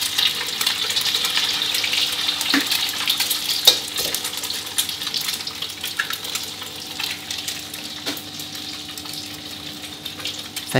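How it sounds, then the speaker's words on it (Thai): Eggs fry in pork fat in a hot wok with a steady, close crackling sizzle and a few sharper pops along the way. "ใส่ไข่ลงไปก็รอสักครู่นะครับให้ไข่เริ่มที่จะเซตตัวขึ้นมาก่อนนะครับ"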